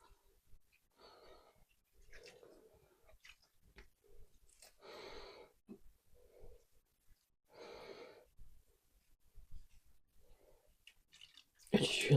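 Breathing through the nose right against the microphone, soft airy breaths repeating at an irregular pace with a louder burst at the end, no talking.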